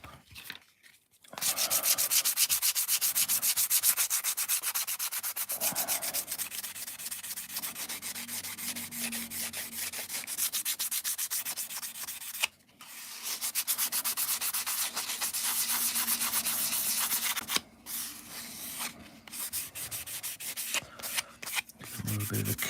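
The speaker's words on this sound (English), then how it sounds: "I do not like sanding down to try and get a decent finish on a model" An Airfix Concorde plastic model kit is sanded by hand in long, continuous rasping strokes. The scratchy rubbing is steady and close, with a few short pauses.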